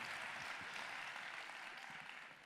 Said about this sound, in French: Un tonnerre d'applaudissements encore une fois.